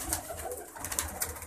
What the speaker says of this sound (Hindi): जैसे ये टेडी कबूतर देख रहे हैं आप